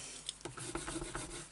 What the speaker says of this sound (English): Give that a little burnish.